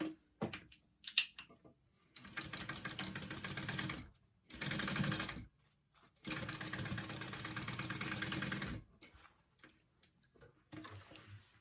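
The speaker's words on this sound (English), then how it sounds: "we're only going to sew this at 1/4 inch seam allowance" A sewing machine stitches a backpack zipper seam at a quarter-inch allowance, running in three steady bursts of rapid mechanical ticking separated by short pauses, with a few soft handling clicks between runs.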